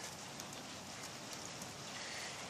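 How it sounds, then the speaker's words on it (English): Rain falls steadily and softly, a dense faint hiss of drops on surfaces continuing throughout without talk. "So we're gonna get back up out of the rain."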